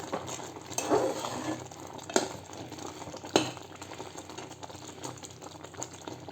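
Carrot halwa cooking in a pan, with a soft continuous bubbling sizzle and occasional louder knocks and scrapes as it is stirred, fairly quiet and without speech.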